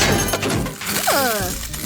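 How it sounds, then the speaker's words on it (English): In a Simpsons cartoon, a hammer smashes vending machines to pieces, giving loud crashing and shattering impacts with falling, ringing debris tones, up close. "Bart swings the hammer hard, smashing them to pieces"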